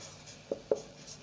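Two short marker or chalk strokes on a classroom board, faint and close, over a steady room hiss during a Class 12 physics lesson on capacitance.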